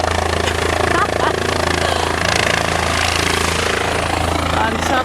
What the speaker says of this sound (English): a chopper's just come by and it's landing